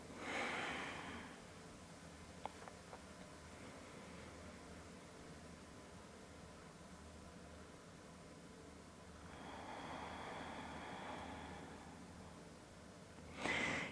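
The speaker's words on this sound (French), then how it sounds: "Et observez votre respiration, le rythme de votre cœur sous vos mains." Slow, deep breaths during a quiet yoga session: a long soft inhale or exhale at the start, a calm stretch of near silence, then another drawn-out breath and a final sharp one at the end.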